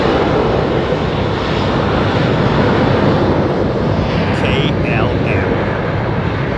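Airbus A350 airliner at London Heathrow, a loud steady broadband engine roar filling the whole stretch, with a few faint higher tones sweeping briefly near the end.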